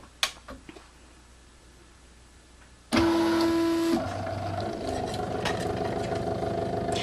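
A paper cutting machine first makes a few faint clicks, then starts with a loud whirring motor, a brief steady tone and ongoing mechanical clatter as it feeds the sheet back and cuts out a square, heard close with no talking.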